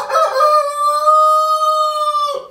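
A young rooster from this year crows once, close and loud: a long, clear, tonal call that rises at the start, holds steady and cuts off sharply, alone without talk.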